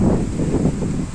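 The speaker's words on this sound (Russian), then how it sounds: "такой ветер." Loud, roaring wind storm, hurricane-force, battering the microphone in heavy low rumbles, continuous and close with no pause.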